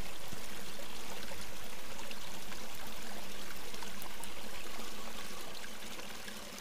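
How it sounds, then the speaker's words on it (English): A creek in Pennsylvania mountain woods rushes and gurgles in a dense, continuous wash of flowing water, close and fairly loud, then fades gradually over the final seconds. "this creek is gorgeous"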